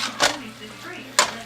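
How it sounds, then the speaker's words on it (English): Two short scraping knocks of a utensil against a pan while chicken and bacon are stirred, close and moderately loud over a faint background hum. "let's stir that in"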